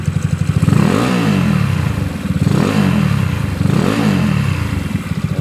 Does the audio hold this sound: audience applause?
no